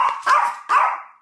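A small dog gives two sharp, close barks, spaced about half a second apart, each with a brief tapering tail, with no talk around them.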